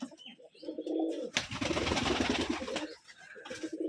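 Giribaz pigeons coo in low, throaty bursts close by at a pigeon farm, broken by a brief flurry of rustling or flapping in the middle.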